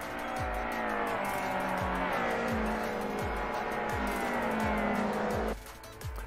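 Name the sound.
race cars finishing a circuit race, tires squealing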